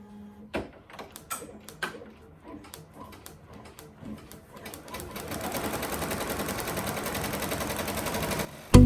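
A Ricoma EM1010 embroidery machine set to 960 stitches per minute stitches a towel, first with scattered clicks and knocks, then settling into a loud, steady, rapid mechanical chatter that runs for several seconds before stopping abruptly.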